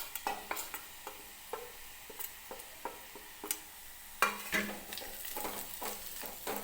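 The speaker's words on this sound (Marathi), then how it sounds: "खोबरं सुद्धा व्यवस्थित याच्यामध्ये 1-2 मिनिटं मी भाजून घेते" Grated dried coconut roasting in a pan with onions, a spoon tapping and scraping in a steady series of sharp close clicks, then a denser scraping stir near the end, faint with no talk.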